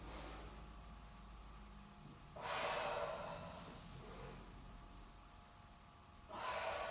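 Deep breaths during a Do-in back self-massage exercise: a quiet background, then two long, breathy exhalations, with a softer breath in between, close and clear with no talking.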